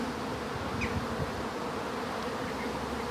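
Dense, steady buzzing of a bee swarm seeking a new home fills the air, a continuous hum of many bees close by with no voices.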